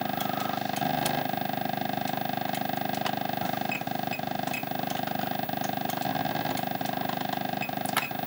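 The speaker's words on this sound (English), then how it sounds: "Engine sound is something to write home about because it's so awful." A steady, buzzy synthesized car engine drone from the Pole Position racing game, a flat electronic tone holding throughout with faint clicks and small pitch shifts, quiet and alone.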